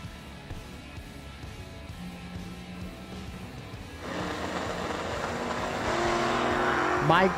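A 1990 Daytona and an 87 Monza idle at a drag strip under an announcer's voice, then one engine swells louder toward the end as the race cars come to life.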